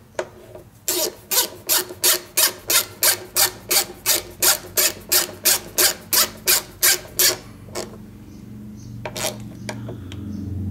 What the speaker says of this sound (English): they tighten okay, so I guess they're just long screws